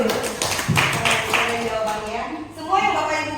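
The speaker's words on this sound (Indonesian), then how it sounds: "Ya luar biasa, kita tepuk tangan dulu Bapak Ibu dulu" A group of teachers claps hands in a room, a brief burst of applause blended with ongoing talk.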